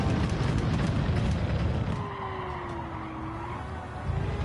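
A V10 racing car engine in a racing video game roars loud and dense at first, then settles into a steadier, slightly quieter tone with a rising and falling pitch, and swells again near the end. No voices are heard.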